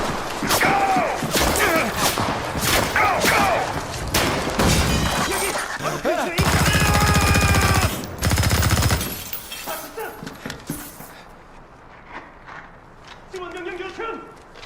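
Rapid automatic gunfire in a Call of Duty shooter, with bursts of rebuilt tracer fire and recoil cracking through a dense, loud mix, then a quieter stretch with a voice talking over sparser sounds.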